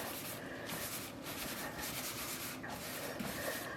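Dry dye powder being rubbed by hand into a knitted sock blank, a steady soft scratchy rubbing with repeated strokes, fairly quiet and close, with no voices.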